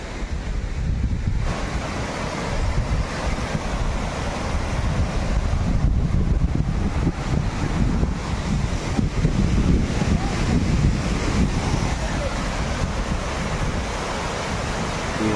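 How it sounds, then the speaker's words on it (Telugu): Kothapalli waterfall in Telangana in February, a broad steady rush of falling water mixed with wind buffeting the microphone, continuous and fairly loud with no talk. "ఇక్కడ అందంగా కొత్తపల్లి వాటర్ ఫాల్"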